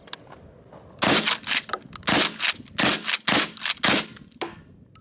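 A Winchester SXP 12 gauge pump shotgun fires outdoors in a rapid string of about eight loud, close blasts over roughly four seconds, each shot sharp and booming with short gaps between them.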